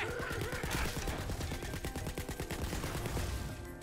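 Rifle fire in Tiny Tina's Wonderlands: rapid, continuous automatic shots in a steady rattling rhythm, moderately quiet, with game music or effects layered underneath.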